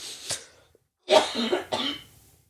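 A person coughs, one short cough followed after a pause by a harsh double cough with some throat clearing, fairly close and moderately loud with no talking.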